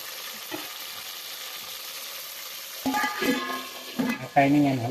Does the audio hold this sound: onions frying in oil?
yes